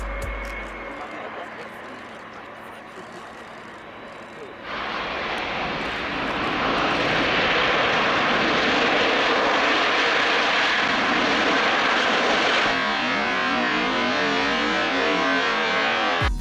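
An airplane's engine roars loudly after landing on the runway following a bird strike, rising into a broad sustained rush that holds for many seconds and then shifts tone near the end.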